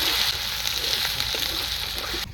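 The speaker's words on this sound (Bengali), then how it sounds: "এবার দিয়ে দিলাম আদা বাটা, কাঁচা লঙ্কা বাটা, জিরে, গোলমরিচ আর ধনিয়া বাটা দিয়ে মশলাটা হালকা করে কষিয়ে নেব।" Ginger, green chilli, cumin, pepper and coriander paste sizzling in hot oil in a pan, a steady close frying hiss that holds evenly throughout with no talking.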